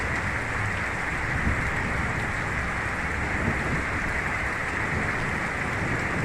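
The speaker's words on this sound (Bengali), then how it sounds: "অকাল কালবৈশাখী, বজ্র বিদ্যুৎ সহ মুষলধারে বৃষ্টিপাত আপনারা দেখতে পাচ্ছেন" Heavy downpour from an out-of-season nor'wester thunderstorm in Jaipur block, Bankura district, West Bengal: a steady, dense, unbroken hiss of rain filling the whole stretch, with no distinct thunderclap standing out.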